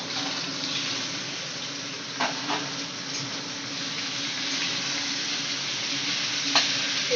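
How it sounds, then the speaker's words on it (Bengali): Panch phoron spices and a bay leaf sizzle steadily in hot oil for a shukto, a continuous close hiss with a couple of faint clinks of a spoon or pan. "এই এটা ফোড়ন দিয়েছি, পাঁচফোড়ন, তেজপাতা দিয়ে দেবো"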